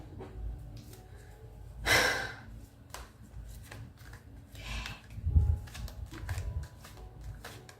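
A deck of tarot cards is gathered up from a spread, giving a few brief, close rustling and sliding bursts between quiet breathing.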